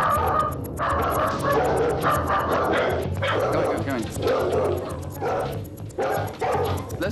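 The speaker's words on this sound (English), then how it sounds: "The bark that he did was not an aggressive bark, was a territorial bark." A dog gives a run of territorial barks indoors as a visitor walks into the house unannounced, the barks sounding close amid a busy household din and talk.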